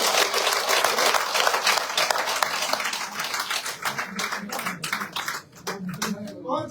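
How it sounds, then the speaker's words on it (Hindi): A crowd applauds during a party joining event at a BJP office, dense clapping filling the room for several seconds before thinning out into scattered claps, with a voice speaking over it. "तालियों से साईं।"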